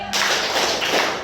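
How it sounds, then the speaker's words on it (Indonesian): Children in a classroom clap their hands three times in unison, close and sharp, a brief burst of crisp claps with no talking. "Tepuk 3 kali"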